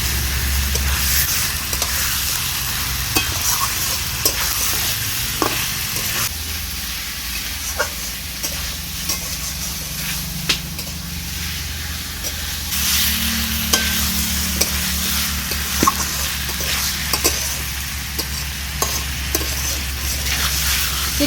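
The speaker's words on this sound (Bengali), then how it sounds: "এবার চিকেনের সাথে দু এক মিনিট ভালো করে নেড়ে চেড়ে নিচ্ছি" Marinated chicken and onions stirred in a hot pan for a winter vegetable stew: continuous loud sizzle and frying hiss with repeated scraping and clacking of a spoon against the pan throughout, no voices.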